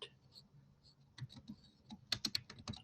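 Keys clatter on a Chromebook keyboard, close and quiet. The taps come in short, uneven runs and build into a faster burst of clicks near the end.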